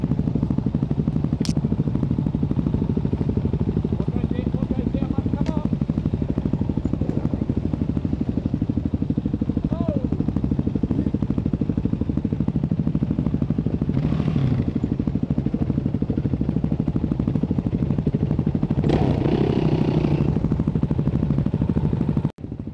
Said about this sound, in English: Perfect for skating motorcycles through muddy trails.